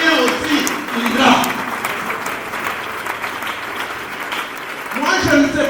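An audience applauds at a live performance, the clapping swelling at the start and again near the end while a person speaks over it.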